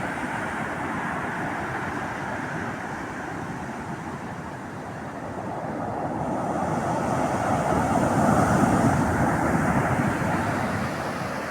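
Rough, swollen sea surges toward the shore near houses, a continuous broad wash of waves that builds louder toward the end, with no voices.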